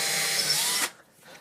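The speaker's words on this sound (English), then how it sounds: "drill that through from both sides, just like that" A power drill fitted with a speedbore bit whines loudly while boring through a door, then cuts off abruptly, leaving a faint quiet tail.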